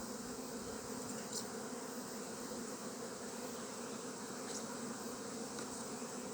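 A dense swarm of honey bees droning inside an open hive above a queen excluder and brood, a continuous close buzz at an even level throughout, with no voices.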